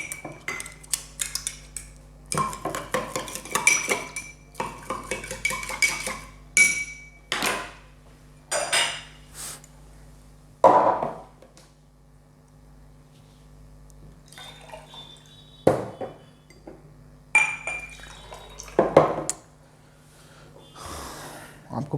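Vegetables being mixed and rubbed by hand in a bowl of Kangen water: irregular splashes, wet squelches and sharp clinks against the container, with quieter pauses between bursts.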